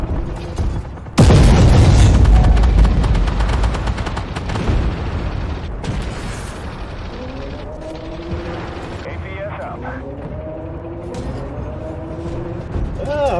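Tank cannon fire from an Object 490 in a World of Tanks–style game: one heavy, loud boom with a long rumbling decay, followed by mechanical clanks, whirring and pinging effects, while someone talks over it.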